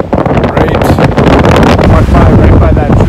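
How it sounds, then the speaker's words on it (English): Heavy, constant wind gusting around 40 miles an hour buffets the microphone with a loud low roar and gusty rumble, steady throughout without letup. "it's blowing like gusts of 40 miles an hour"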